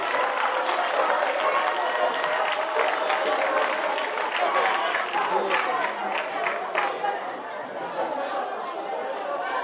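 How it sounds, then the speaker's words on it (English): Students in a crowded hall clap loudly and continuously as a dignitary walks up to the stage at a town hall gathering, with crowd chatter and a few cheers mixed in, easing slightly toward the end. "Students, can you clap as Honorable is coming up to the stage."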